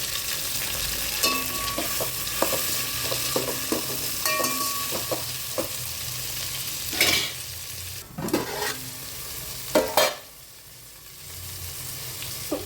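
Onion, bay leaf, coriander, mint and green chillies frying in oil for vegetable pulao, a steady sizzle with repeated stirring scrapes and clinks, louder bursts near the end, no talk.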